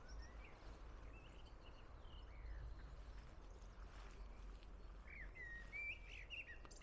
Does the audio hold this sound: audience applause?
no